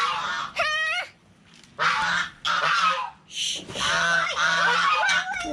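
A tame goose bathing gives several loud, nasal honks in quick bursts, some clipped and some drawn out, with faint splashing between calls close to the camera.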